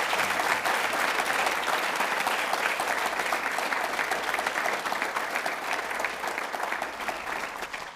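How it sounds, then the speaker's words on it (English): An audience breaks into sustained, dense applause welcoming Dr. Rami Nashashibi to a conversation on stage, steady and full throughout with no voices over it. "please give a warm round of applause to welcome our brother"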